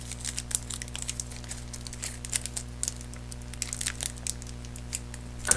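A My Little Pony trading card pack is torn and crinkled open close up, giving soft scattered crackles and tearing rustles over a steady low hum.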